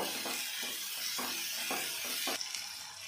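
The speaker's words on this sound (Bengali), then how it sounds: "ভালো করে মশলাটা আমি কষিয়ে নেব" Masala spices with turmeric and salt sautéing in a pan for Bengali-style masala kochu, a steady close sizzle broken by several soft scraping stirs, with no voices.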